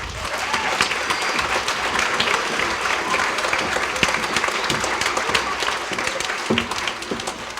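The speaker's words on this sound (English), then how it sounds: "could you please give her a round of applause?" Audience at a grade school band and vocal music concert applauds the principal, a dense, sustained wash of many hands clapping with scattered louder claps, steady throughout.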